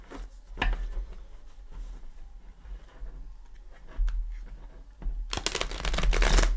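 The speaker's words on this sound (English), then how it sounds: "But I do like to give it a couple shuffles with you here." A Light Seers tarot deck being shuffled by hand, with soft card riffles and taps spread through a quiet room and a louder burst of shuffling near the end.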